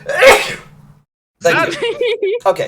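A single loud, close sneeze bursts out right away, followed by a short silence and then someone talking.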